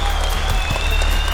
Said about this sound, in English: Let's give a big round of applause for the champions here on the off-road.